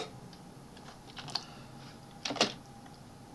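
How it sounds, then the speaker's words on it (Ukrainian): Keys on a computer keyboard are pressed a few times in quick clicks, one short cluster standing out, over quiet room noise. "Та натиснемо Escape на клавіатурі."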